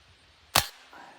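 A single sharp, loud crack from a Crosman 1377 pump air pistol fired after ten pumps, close by, with a short decay and a faint thud a moment later.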